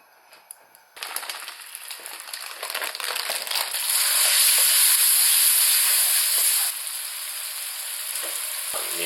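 Plenty of oil in a hot wok bursts into a loud, steady sizzle and hiss that swells midway, then eases slightly while still crackling on, close and without talk.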